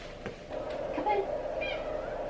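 A pet cat meows close by, two or three short, rising calls over a low steady room hum.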